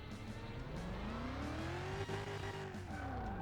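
Audi RS6 engine in Car Mechanic Simulator 2021 roaring steadily while a handbrake skid sets the tires squealing, a rising and falling pitch sweep over continuous loud engine noise, with no talk.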